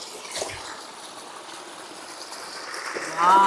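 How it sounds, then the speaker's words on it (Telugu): A small waterfall in Andhra Pradesh pours a continuous, moderate rush and trickle of water, with a brief tonal sound rising near the end. "ఇది చిన్న వాటర్ ఫాల్స్. ఇది అంటే అక్కడ ఫ్లో అవుతున్న వాటర్ ఇక్కడికి వస్తుంది."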